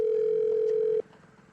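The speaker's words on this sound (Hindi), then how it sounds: "फोन करके पूछती हूँ कहाँ पहुंचा।" A single steady telephone tone from an outgoing call, heard close and clean for about a second before it cuts off abruptly, leaving faint background noise.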